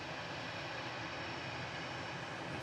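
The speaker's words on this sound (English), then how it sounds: "EasyJet heading off to Malaga" An EasyJet airliner departing Manchester Airport for Malaga, its engines a steady, loud, broadband roar that holds evenly throughout with no voices.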